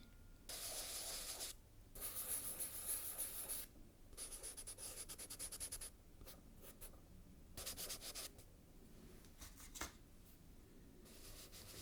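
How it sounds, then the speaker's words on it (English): Chalk pastel rubbed rapidly across paper to cover the top half of a page, a close, steady scratchy scrubbing in long bursts separated by brief pauses, with no talking. "look how quickly I just covered that entire top half of the page with chalk pastel"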